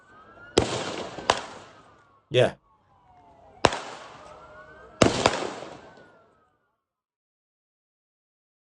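Sharp, loud gunshots ring out during a shooting attack on a street, four or five separate cracks spaced about a second apart, each trailing into echo, with a brief spoken word between them.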